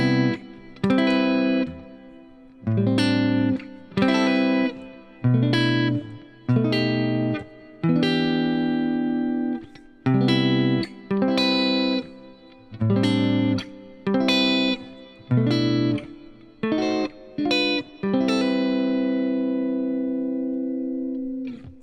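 An electric guitar plays a neo soul chord progression in which diminished passing chords move between the main chords. The chords are strummed in clear rhythmic stabs with short gaps between them, and the last chord rings out and fades. No one speaks.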